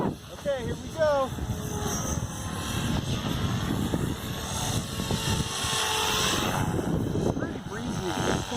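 Blade Fusion 360 6S electric RC helicopter flying 3D manoeuvres in gusty wind, its rotor whine and airscrew buzz swelling and falling steadily throughout, with wind noise and some talk in the background.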